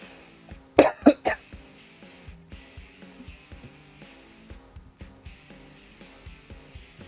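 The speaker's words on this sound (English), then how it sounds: "I coughed up some PHLEGM" A quick cluster of harsh, phlegmy coughs and throat clearing erupts close to the microphone, three bursts in about half a second, over quiet, rhythmic video game music that continues afterward.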